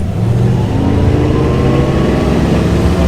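A 2004 Chaparral 260 SSi boat engine hums steadily and loud throughout, a continuous low purring drone with no voices over it.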